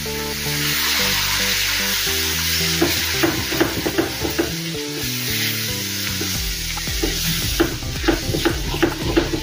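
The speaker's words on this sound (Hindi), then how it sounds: "अच्छे से मिक्स करेंगे इसको भी" Rawa laddu mixture is stirred in a pan with creamy milk over low heat, giving a steady bubbling sizzle broken by repeated scraping and clinking strokes of the spoon, close up, with no speech.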